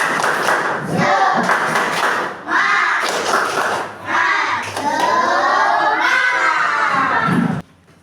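Schoolchildren in a classroom perform a spirit clap chant, shouting rhythmic phrases in unison between bursts of clapping, loud and close, with short pauses between chanted lines before it stops abruptly.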